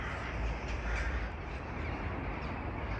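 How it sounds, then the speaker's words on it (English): Crows cawing over Kyiv during an attack, a steady flock of harsh calls carrying through continuous low city rumble, with no voices. "Look at all these birds."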